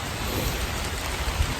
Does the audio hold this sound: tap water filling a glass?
no